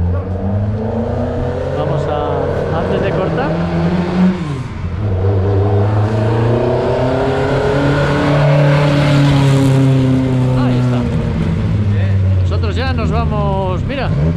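A Porsche 914 at the Rally Motul Costa Brava, its engine revving loudly as it drives past near the roadside, with spectators talking over it throughout.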